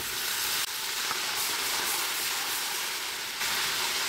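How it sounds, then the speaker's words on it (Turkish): Green beans sauté in oil in a pot after cooking in their own juices, a loud, continuous sizzle and crackle close by, steady throughout with no talking. "Çok güzel bir şekilde ara sıra karıştırarak da kavuralım."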